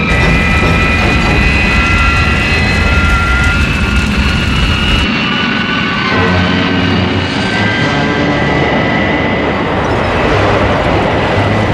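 Loud, steady roar of aircraft engines droning close by during a dive, with a whining tone above it; the sound shifts partway through but keeps going throughout.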